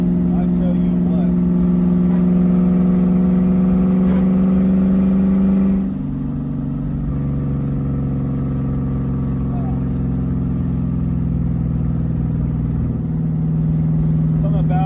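A built V8 in a 2001 Mustang GT with a 5-speed manual runs loud and steady, a deep droning rumble whose pitch drops slightly partway through and then holds at idle, alone without talk.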